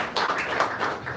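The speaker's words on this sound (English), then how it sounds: "That's a pretty tepid applause." Thin, scattered clapping from a sparse town hall audience in Nashua, New Hampshire, a brief and unenthusiastic patter that fades quickly.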